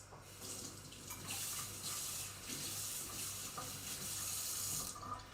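Tap water runs into a sink to rinse a garlic crusher in a home kitchen, a steady close splashing stream with the pitch and spatter shifting as the crusher moves under the flow, alone without talk.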